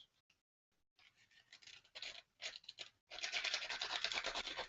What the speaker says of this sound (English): you get some bits that need to be sanded down there.